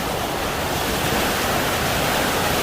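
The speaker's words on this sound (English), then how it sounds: "you see the water just gushing." Water gushes fast through an ancient stone channel at the Taxila ruins in Pakistan, a steady, dense roar of rushing flow with no breaks or voices.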